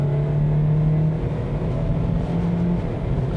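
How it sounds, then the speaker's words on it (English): Engine of a 2018 Kia Niro Plug-in hybrid under hard acceleration, a steady close drone whose pitch drops and resettles at gear shifts, loud and continuous without speech. "you hear and feel traditional gear shifts, and the engine gets pretty noisy"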